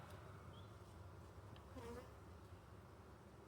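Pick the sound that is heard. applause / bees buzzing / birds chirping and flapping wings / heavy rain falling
bees buzzing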